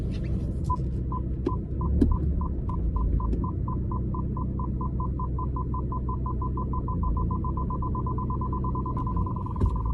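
A steady electronic beeping tone from a BMW 1 Series 118d M Sport F20 parking sensor repeats rapidly and evenly, speeding up slightly, over a low engine hum with no talking.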